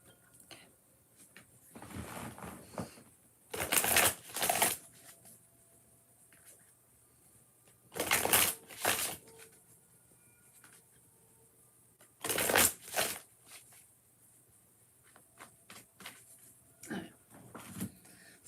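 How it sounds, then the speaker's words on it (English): Oracle cards are shuffled by hand in several short, brisk riffling bursts a few seconds apart, close and fairly quiet, with faint handling noises between them. "Just going to shuffle these a little bit more before I start."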